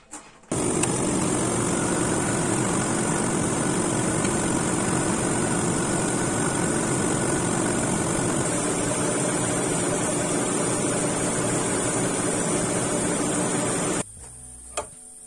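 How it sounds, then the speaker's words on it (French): A Renault Laguna engine idles with a constant, steady hum and whine, running unchanged for several seconds before cutting out. "je remets en route le moteur"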